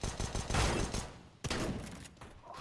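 Gunfire in CS:GO during a competitive match: a rapid burst of shots followed by a sharp single shot and further rattling fire, close and loud, with no talking.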